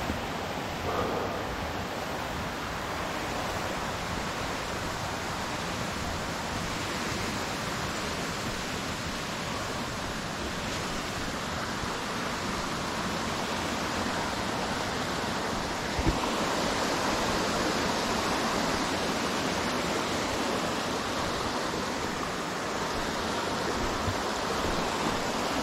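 A big waterfall along a hiking trail at Hemlock Falls or Upper Moccasin Creek Falls roars in a steady, unbroken wash of white noise, moderately distant and unchanging for the whole stretch.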